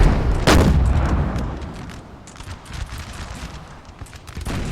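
A 6-pounder cannon and musket fire in Napoleon Total War: one loud, sharp cannon blast opens, then scattered distant musket pops crackle on, with another shot at the end.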